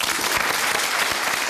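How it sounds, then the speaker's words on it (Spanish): Studio audience applause on a Chilean television talk program: dense, steady clapping from many hands, loud and continuous throughout with no pauses. "Voy a aprovechar de pedir un aplauso primero para ella"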